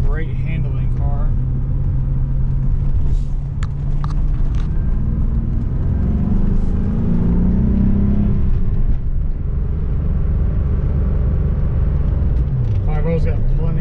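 A 1991 Porsche 928 with about 92,000 original miles on a test drive: steady engine rumble and road noise from inside the cabin, with the engine note rising and easing as it accelerates, continuous throughout.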